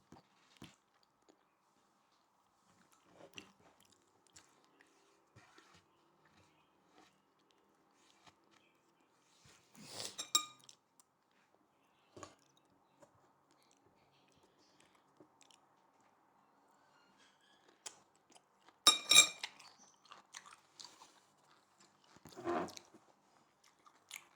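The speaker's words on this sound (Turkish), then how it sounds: "Siz evde hiç ağzını şapırdatmadınız mı?" Someone eating breakfast, chewing loudly with lip smacking: sparse, quiet, close-up crunchy bites and wet smacks in scattered bursts with long pauses between them, and no talking.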